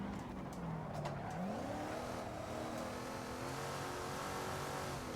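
A small block Ford V8 race car engine from 1970s Trans Am club racing in Assetto Corsa, droning loudly and continuously with rising and falling revs through gear changes, with faint tire squeal.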